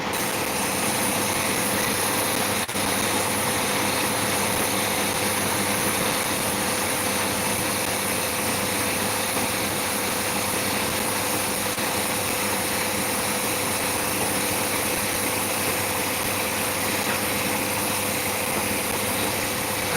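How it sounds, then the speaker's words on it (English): A grinder runs steadily on an opal, a constant high whine with a low motor hum holding level and fairly close throughout, with no talk over it. "Patience for tonight, it's time to grind this one."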